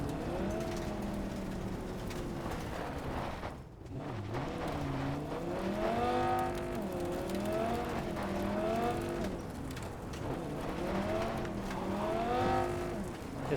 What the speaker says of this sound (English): This car does not like dirt roads.